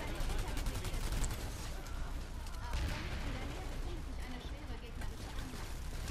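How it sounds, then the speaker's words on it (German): A grenade blast amid steady gunfire in the online shooter Planetside 2, with dense rattling shots and bursts filling the battle mix throughout, under no clear speech. "Ah, Granate."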